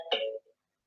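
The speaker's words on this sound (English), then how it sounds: "my phone is making weird noise, sorry about that" A phone gives off a short electronic tone, a brief bright chirp with a faint second blip after it, alone and fairly quiet.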